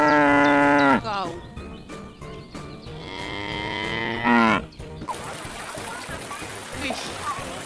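A cow gives two long, drawn-out moos, loud and close, one after the other. A burst of broad noise follows them.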